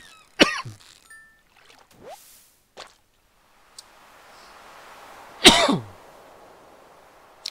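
A person coughs and clears their throat in a few separate bursts, with one harsh, louder cough near the end, close to the microphone between quiet gaps.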